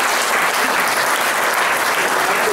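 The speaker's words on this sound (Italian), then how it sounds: "Vorrei un applauso per questa storia." Loud, full applause from a large audience at a festive community gathering, a dense continuous wash of clapping with no pauses, close and sustained.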